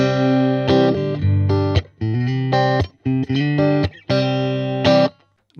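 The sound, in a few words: Stratocaster electric guitar straight into Honeyboy valve amp, no pedals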